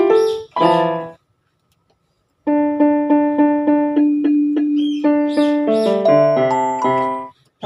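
Keyboard in split mode plays a simple melody, piano chords layered with a smoother strings tone, alone without talking, with a brief pause before the tune continues.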